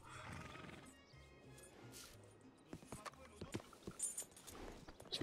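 A horse whinnies in Red Dead Redemption 2, a loud neigh near the start, followed by thudding hoof clip-clops and rustling movement that grow stronger toward the end.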